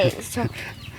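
Chickens clucking close by in a short burst of quick, choppy calls, heard in a rural Thai setting where chicken is being prepared for herb-marinated barrel roasting.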